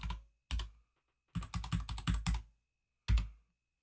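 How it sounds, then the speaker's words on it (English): Password typed on a Mac computer keyboard: a couple of separate key taps, then a quick run of about half a dozen close clicks, and one last firm press after a pause, all near and isolated. "Type in your Mac password."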